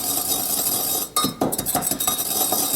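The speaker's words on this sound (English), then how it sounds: "Wow, a good mortar and pestle." A pestle knocks and grinds in a mortar as citrus peel and vanilla sugar are crushed: several close, sharp taps and clinks follow one another over a steady background hiss.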